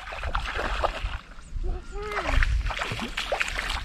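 Hands splash and slosh in shallow river water while small fish are caught by hand in a Bastar village, with irregular nearby splashes under frequent talking voices.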